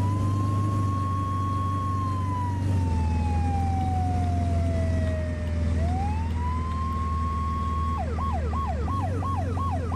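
Emergency vehicle sirens from the video game Flashing Lights, loud and steady over an engine drone. A long wail slides up and down, then switches to a rapid yelping pattern near the end.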